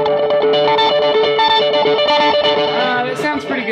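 Moniker electric guitar with the pickup selector in one position, strummed in a steady, dense stream of chorused, lightly distorted chords, loud and close throughout.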